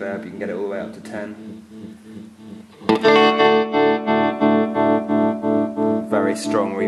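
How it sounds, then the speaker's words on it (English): Someone talks briefly, then an electric guitar rings out loud chords through a Fender Twin amp, its reverb turned up to 10, washed in heavy reverb with a pulsing wobble. "Very strong reverb effect"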